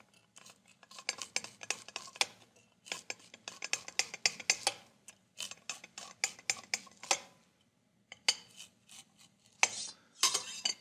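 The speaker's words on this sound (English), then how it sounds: "just cut the kernels off." A knife slices kernels off a corn cob in a run of quick, close scraping strokes with a few short pauses, crisp and alone with no talking.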